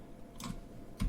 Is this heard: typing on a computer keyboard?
yes